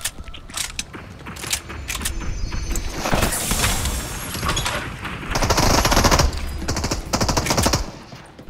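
Automatic gunfire crackles through a Fortnite match, with bursts of rapid shots and clattering mechanical noises coming in waves, strongest in the second half, with no talk.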